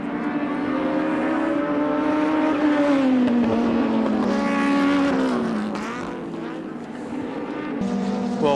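Touring race cars at Wanneroo in 1988 roar past on the circuit, a loud engine note rising and falling in pitch as they go by, with race commentary talking over the noise.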